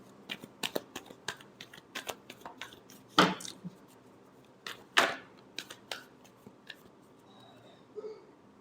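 Tarot cards being shuffled during a reading, a run of quick papery flicks and riffles with two louder, sharper bursts in the middle, close and clear with no talk.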